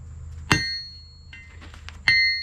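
A hammer strikes a railroad spike on an anvil during hand forging, with two sharp, ringing metallic blows about a second and a half apart and a few lighter taps between them, close and loud.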